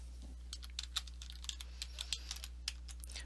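A username and password are typed on a computer keyboard: quick, fairly soft key clicks in an uneven burst, heard close and alone over a low steady hum.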